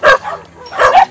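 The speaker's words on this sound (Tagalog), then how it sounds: "Ito po yung mga aso ang nagsisilbing pamilya ni nanay at si tatay." Dogs kept by an elderly couple bark and yip in loud, close bursts, two quick barks followed by a pair more, with a faint whimpering tone between.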